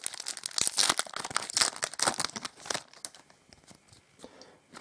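Foil wrapper of a Yu-Gi-Oh Judgment of the Light booster pack being torn and crinkled open, close rapid crackling tears in a busy burst that thins into sparse rustles.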